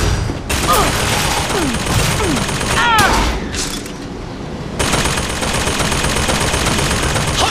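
Enemy gunfire in the video game BioShock Infinite: Burial at Sea Episode 2, loud rapid bursts of automatic fire and booming shots in close succession, with a short lull before the shooting resumes.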